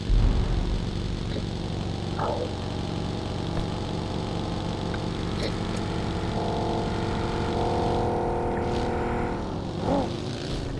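A video game car engine drones steadily throughout, with a rising and falling pitch as it accelerates and passes, fairly loud and continuous with no one speaking.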